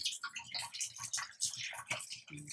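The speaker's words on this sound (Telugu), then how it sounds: "గరంలో వాటర్ పోసుకుందాం కొన్ని" Hot water is poured and splashes in bursts while goat tripe is washed by hand for a Telangana-style boti dish. The sloshing and dripping is close but fairly quiet and comes in irregular spurts.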